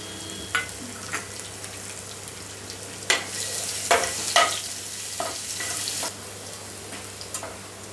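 Curry leaves and crushed garlic sizzle in two spoons of hot oil for a tempering, a continuous frying hiss broken by sharp spitting crackles and bursts up close.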